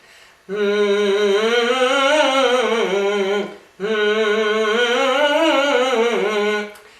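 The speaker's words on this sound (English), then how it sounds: "then perhaps you can switch to humming" Two long sustained hums, each a few seconds, with the pitch rising and falling smoothly, close and steady with a short breath between.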